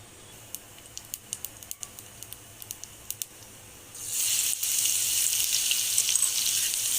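Cumin seeds crackle in hot oil with sharp scattered pops, then a garlic and green chili paste goes in and a loud, dense sizzle takes over for the remaining seconds.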